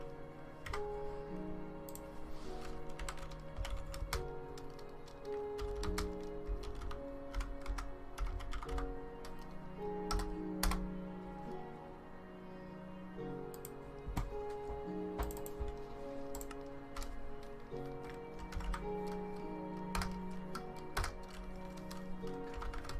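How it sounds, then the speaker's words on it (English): Computer keyboard typing during a Minecraft session, a steady run of light, quick key clicks continuing throughout at moderate level, with no talk. "Don't mind the bad typing."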